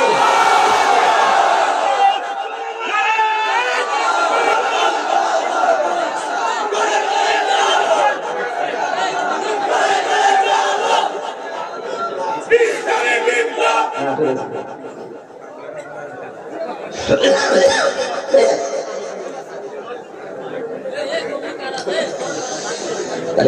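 A large crowd at an Islamic religious gathering in Nangalkot shouts back in unison to a takbir call, a sustained, dense roar of many voices that rises and swells over about twenty seconds.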